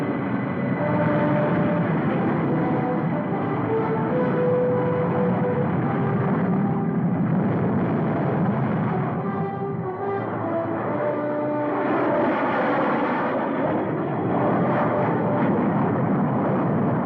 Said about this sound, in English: Unidentified transport planes.